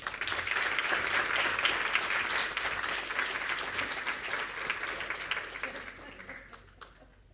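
An audience at a leadership and public policy forum gives dense, sustained applause to welcome a speaker. The clapping is loud and steady at first, then thins out and fades toward the end.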